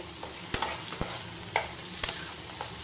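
Mashed bharta fries on a low flame, a steady soft sizzle with sharp spoon-scraping strokes at regular intervals.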